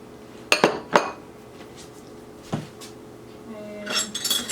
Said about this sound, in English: I'm going to add my spinach. Then I'm going to go ahead in and add my quinoa.